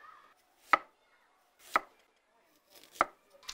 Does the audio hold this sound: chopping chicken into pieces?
yes